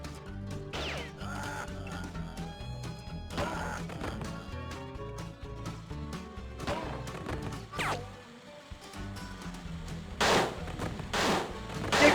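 Gunshots in a spaghetti western shooter game on the Wii, scattered loud cracks and crashes between stretches of game music, with a tight cluster of blasts near the end.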